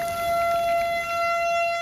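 A tornado warning siren's steady electronic tone holds on a couple of sustained pitches, loud and continuous, with a faint rumbling background and no voices.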